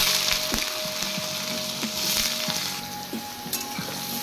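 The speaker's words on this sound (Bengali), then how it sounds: "এবার আমি বেগুনগুলো ভেজে নেব।" Eggplant pieces, salted and turmeric-dusted, frying in hot oil in a pan for a Bengali meal, giving a steady close sizzle and crackle with small pops and the occasional stir throughout.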